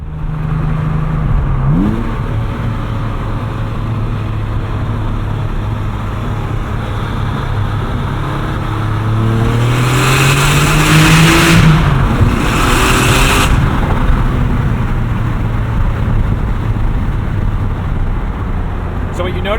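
A 2004 Porsche 911 Turbo X50 with a Fab Speed exhaust revs loudly up close, its engine note rising and falling in a couple of sweeping pulls over a steady idle drone, with brief talk over it.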